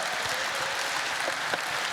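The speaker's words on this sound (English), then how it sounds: "Come on, clap." A large conference audience at a closing panel claps together, a steady wash of applause heard from a distance throughout.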